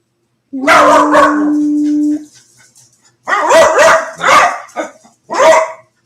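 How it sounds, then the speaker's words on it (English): A dog barks excitedly while chasing a person up a staircase, one long yelping bark followed by several sharp barks in bursts, loud and close. "Dog nipping at her heels the whole way up the stairs."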